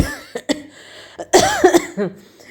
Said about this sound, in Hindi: सॉरी भाई, खांसी होगी